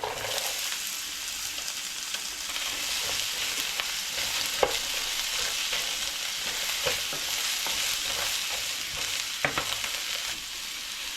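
Kohlrabi stir-fries with garlic in a hot pan, a steady close sizzle with intermittent sharp clinks and scrapes of the spatula against the pan as it is tossed, running continuously without talk.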